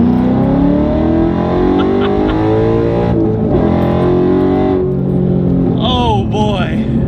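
A Ford 302 V8 car engine accelerates with a steadily climbing pitch, loud and close, then drops back as people talk briefly over it.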